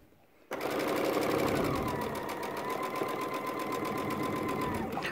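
A sewing machine stitching a Christmas stocking starts abruptly and runs steadily with a fast, even mechanical chatter and hum, loud and close, continuing without pause.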